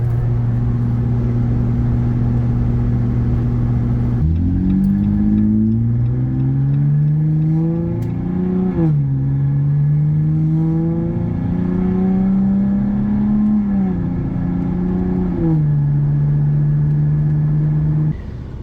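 A car engine running loud and close from inside the cabin while driving toward a stop sign, holding a steady drone and then rising and falling in pitch as the car changes speed.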